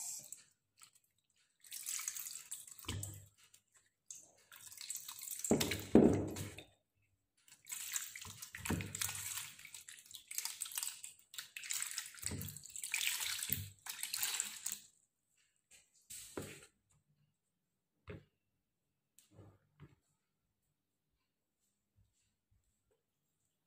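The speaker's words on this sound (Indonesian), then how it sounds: "Setelah ini kita bilas lagi timunnya." Cucumbers rinsed under a running tap, water splashing and gushing in uneven bursts nearby, with pauses and fading drips toward the end.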